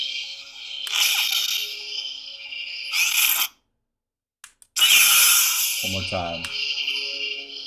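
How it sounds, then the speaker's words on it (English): Darksaber lightsaber toy from The Mandalorian powering on with a bright crackling hum, cutting off abruptly, then igniting again loudly, ending with a brief voice over the buzzing blade. "You've got that ignition sound, and then you've got this, retraction sound right here."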